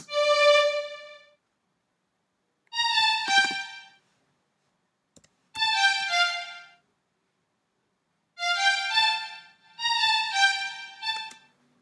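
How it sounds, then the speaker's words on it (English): Bright synthesized string chords in a reggae beat play in short separate swells with silent gaps between them, each phrase rising and fading, with no voices. "I also have some strings to complement the rest of the track"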